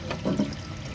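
An ice maker machine refilling with water after draining, a steady low wash of running, pouring water with a brief swell near the start, continuous and fairly quiet throughout.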